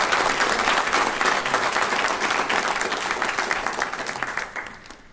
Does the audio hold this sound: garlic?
no